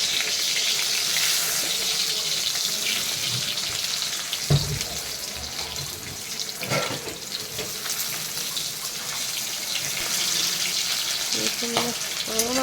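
Tomato curry cooks in a pan with a steady, loud sizzle and a watery hiss throughout, broken by a few brief utensil clatters.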